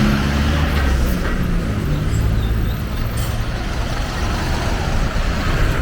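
City buses and general road traffic in Asunción, Paraguay, rumbling past continuously with heavy low engine drone and broadband street noise, fairly loud and close throughout with no talk.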